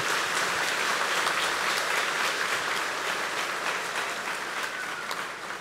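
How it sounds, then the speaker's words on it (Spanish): A church congregation applauds during a Spanish-language Catholic sermon, a dense, steady wash of many hands clapping that holds for several seconds and eases slightly toward the end. "Denle ese aplauso al Señor."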